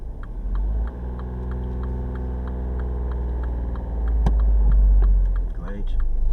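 A learner car repositions beside another vehicle during a reverse-parking lesson, its engine idling close with a steady low hum and faint ticking, while a voice talks over it.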